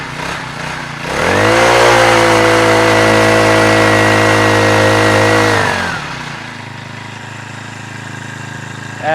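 Jon boat outboard motor starting up, then a loud steady engine drone for several seconds that drops to a lower idle.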